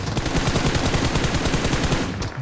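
Rapid automatic M4 rifle fire in a video game, a dense, evenly spaced burst of loud cracking shots running nearly continuously for a couple of seconds.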